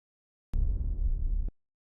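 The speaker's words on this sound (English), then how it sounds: "The tail, I used an impact from Kashmir Pack." A punchy impact sample from the Kashmir sample pack, used as the tail of a techno drop punch: one loud, bass-heavy noisy burst about a second long that starts abruptly and cuts off sharply.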